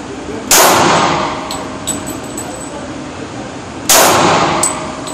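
Two sharp rifle shots about three seconds apart during shooting practice, each ending in a bright metallic clang and a lingering ring from a struck steel target, with quiet background between.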